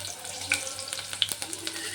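Curry leaves dropped into hot oil that already holds cumin and green chillies, producing a close, steady sizzle broken by sharp pops and crackles.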